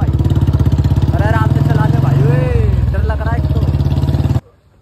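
A Royal Enfield Bullet motorcycle's loud engine thumps steadily in second gear, held at a rising rev with a strong low pulsing rhythm, under excited talk, before cutting off abruptly near the end.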